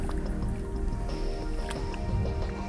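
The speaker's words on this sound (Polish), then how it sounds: "i wraca karpiszon do wody. Zobaczcie, ile energii ma." A lively carp splashes and thrashes as it is let back into the water from a lakeside fishing spot, with close wet drips and slaps over a low background rumble.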